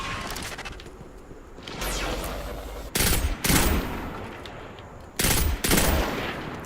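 Pulse rifle fire in Destiny 2 comes in several rapid bursts of shots, each a short clustered volley with gaps between, loud and close over busy game ambience.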